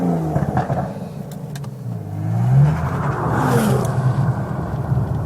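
A 2019 Aston Martin DBS Superleggera roars through its quad exhaust, rising from a rumbling idle into a loud, close rev with swelling engine pitch and a gruff, throaty growl that holds as the car pulls away.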